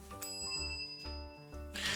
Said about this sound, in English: I press the service bell on the counter, but it doesn't elect any response.